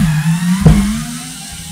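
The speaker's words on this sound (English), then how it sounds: "the screwdriver fails to drive the screw inside that wood" A Bosch GSR 3.6V cordless screwdriver straining to drive a small screw into hard wood, a short steady motor hum with a brief clunk as it stalls, close and loud.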